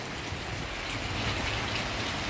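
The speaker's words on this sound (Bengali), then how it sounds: "প্রচণ্ড বৃষ্টি হচ্ছে," Heavy rain pours down on a rainy day, a dense, loud, continuous hiss of drops on surfaces with no pauses, close by.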